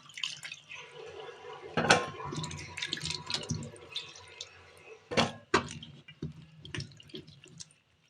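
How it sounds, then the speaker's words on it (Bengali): Bottle gourds are rinsed under running water, with drips, splashes and soft handling sounds, plus a few sharper knocks and clatters near the start and end. "আর এদিকে আমি লাউগুলো ধুয়ে নিচ্ছি।"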